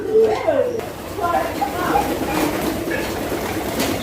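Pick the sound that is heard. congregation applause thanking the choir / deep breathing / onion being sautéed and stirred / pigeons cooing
pigeons cooing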